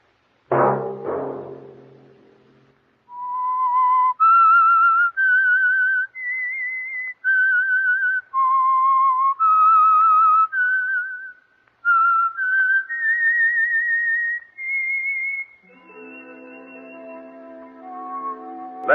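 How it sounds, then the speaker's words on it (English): A person whistles the theme tune of The Whistler radio show, a clear solo melody of sustained, slightly wavering notes, heard alone after a brief soft chord and fading into orchestral music. "Let that whistle be your signal for the Whistler each Sunday night at this same time."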